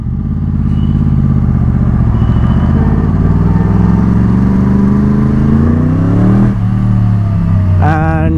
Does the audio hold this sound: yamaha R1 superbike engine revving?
yes